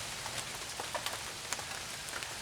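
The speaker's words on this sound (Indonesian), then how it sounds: "suasana sedang hujan gerimis" Light drizzling rain falls steadily on surfaces around a hut, a soft continuous patter with scattered individual drops ticking through, with no voices.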